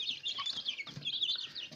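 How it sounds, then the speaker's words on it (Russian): Moscow black chicks and turkey poults chirping in a brooder, a soft continuous cluster of high peeping calls, faint and close, with no talk. "Это индюшонок младше цыплят."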